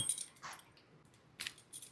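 Keys for the tow hitch lock on a Suzuki Jimny jangle in a few short, faint bursts of metallic clinking separated by quiet gaps.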